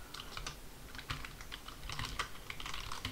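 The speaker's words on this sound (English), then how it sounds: "Let's just type everything out so we can get this to work." Someone types on a computer keyboard at a quick, uneven pace, the keys clicking in short bursts and clusters, near and fairly soft with no talking.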